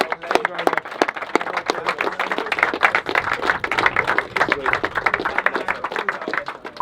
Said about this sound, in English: a big round of applause for you guys for coming out